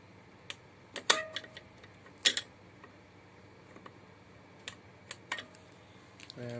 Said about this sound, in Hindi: टक की आवाज़ भी आएगी जो स्विच ऑन हो जाता है।